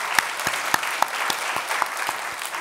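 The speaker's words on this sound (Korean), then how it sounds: "감사의 박수를 드리겠습니다." A church congregation claps together in a rhythmic, evenly paced applause, loud and steady within a large worship hall.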